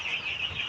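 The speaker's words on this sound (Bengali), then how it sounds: "A+ টাইগার মুরগির বাচ্চা।" Tiger breed chicken chicks peep in a steady, shrill high chorus, close and moderately loud, with no voices over it.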